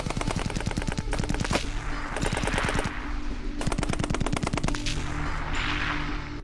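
Rapid machine-gun bursts rattle out in several long volleys, loud and close, with brief pauses between the strings of shots.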